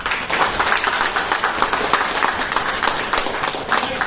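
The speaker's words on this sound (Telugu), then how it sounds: "క్లాప్స్ ఇవ్వండి సార్" An audience at a live event in Thailand claps continuously in a dense, even patter of many hands, fairly close and without pause.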